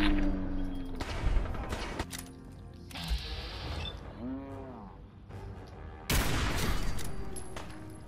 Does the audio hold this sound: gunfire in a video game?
yes